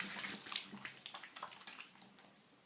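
Water splashing and trickling over a bar of castile soap, a run of soft wet splashes and drips close by with no voices.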